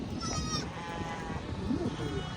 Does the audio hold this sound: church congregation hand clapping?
no